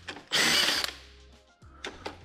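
A power tool whirs in a short loud burst while unscrewing a slider bolt on a Kawasaki Z650 motorcycle, then fades to a low mechanical hum with a few faint clicks and taps afterward.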